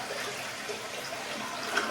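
Water runs steadily from a bathroom tap or shower as a continuous hiss of rushing water at moderate level, with no voices.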